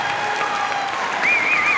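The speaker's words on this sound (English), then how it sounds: "let's give them a round of applause" Applause for teachers at a school award ceremony, a steady wash of clapping from a crowd, sustained and fairly loud with a few faint tonal sounds over it.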